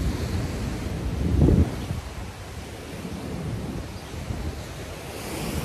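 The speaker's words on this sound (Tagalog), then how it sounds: "nandito ako ngayon sa tabing dagat. Sa tabing mabato" Waves break against a rocky seashore, a low surging wash with one stronger swell, heavy wind buffeting across the microphone and no voices.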